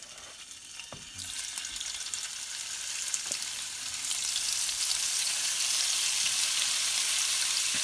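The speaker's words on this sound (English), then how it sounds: "You're going to be searing this on medium to high heat" Beef sears in a hot pan over medium-high heat, starting with a few clinks before a loud sizzle bursts in at about one second and swells into a steady, hissing roar.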